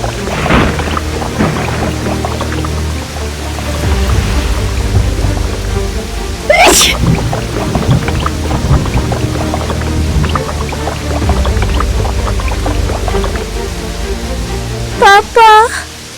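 Heavy rain pours onto knee-deep floodwater in the streets, a dense steady wash of splashing and hiss that runs the whole time, with a sharp louder burst partway through and a voice near the end.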